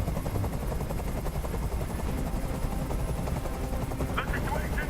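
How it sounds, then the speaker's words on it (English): A hovering helicopter in Detroit: Become Human gives off a steady, loud rotor drone and chop that runs through the whole stretch, with a brief burst of higher-pitched noise near the end. "I can't stand that noise anymore. Tell that helicopter to get out of here."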